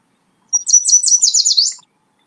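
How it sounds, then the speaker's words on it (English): A yellow warbler sings one short phrase of rapid, bright, high-pitched sweet notes, clear and alone against a silent background. "Let's see what the yellow warbler sounds like"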